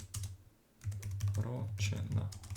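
A computer keyboard is typed on in quick, close clicks and taps, partly under a man's speech and a low steady hum.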